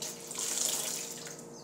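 Water runs steadily from a tap, a soft continuous splashing hiss that swells slightly and holds for under two seconds.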